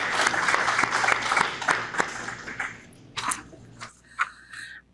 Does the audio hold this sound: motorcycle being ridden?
no